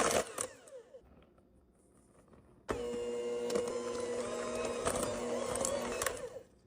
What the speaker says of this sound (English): Using the stand mixer to bring your dough together, I think is such a cheat code.